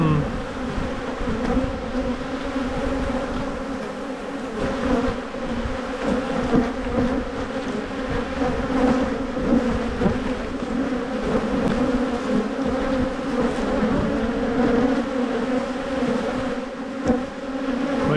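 Honey bees buzz steadily at an open white hive during a brood inspection, a dense, continuous drone close by with no pauses and no talking.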